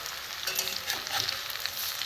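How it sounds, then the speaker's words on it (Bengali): Soybean fritters fry in a shallow pan of oil, giving a soft, steady sizzle and crackle throughout, with faint light spatters as they cook. "এগুলো দু পিঠ লাল করে ভেজে নেবো"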